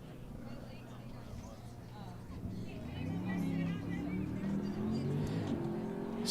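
A car engine revs near a park during a softball game, a rough low growl rising and swelling in the latter half under ongoing commentary.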